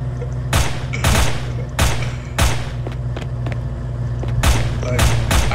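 Gunfire in the shooter game SinVerse, set in a China Town map: a rapid series of loud, close bursts of shots at irregular intervals, each burst with a sharp crack and low thump.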